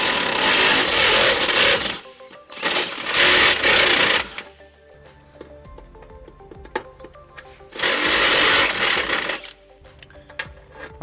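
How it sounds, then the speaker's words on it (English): A power drill turns a step bit to widen a hole in the steel frame of a 2016 Nissan Altima during a trailer hitch install, loud whirring bursts of about two seconds separated by quiet pauses with faint clinks. "So to enlarge that hole, we're going to use our step bit."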